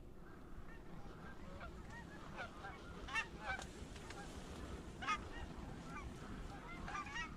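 Geese honk during a goose hunt, a distant flock calling in overlapping nasal honks over a constant low rumble, with a few louder calls standing out.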